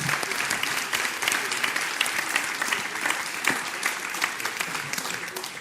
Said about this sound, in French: Je vous remercie messieurs pour cette contribution, on peut les applaudir.